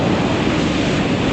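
Steady, loud wind roar buffeting the rider on a BMW R 1250 GS Adventure motorcycle on a backcountry trail in the Kootenays, Canada, a continuous dense rush with no voices.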